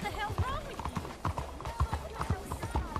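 A horse in the video game Red Dead Redemption 2 plods along with steady, rhythmic hoof clops on the ground. The hoofbeats are close and clear, with a voice talking over them.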